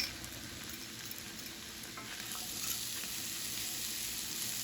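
Mushrooms and onion frying in a pan for Salisbury steak, a soft continuous sizzle and crackle that grows slightly louder, fairly faint and alone.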